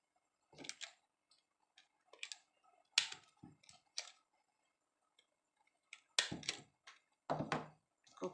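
A handheld stapler fastens a banana-leaf cup (krathong), giving a series of separate sharp clicks and snaps at close range in quiet surroundings.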